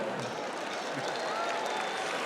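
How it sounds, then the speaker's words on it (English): An audience at a strongman log lift challenge claps and murmurs in a steady, broad wash of noise, moderately loud and continuous, with some crowd chatter mixed in. "clap now"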